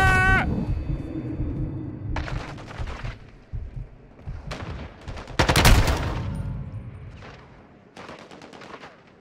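Shotgun gunfire in Call of Duty Modern Warfare 2 multiplayer, several sharp loud blasts spaced a second or two apart with rumbling tails and scattered game noise between.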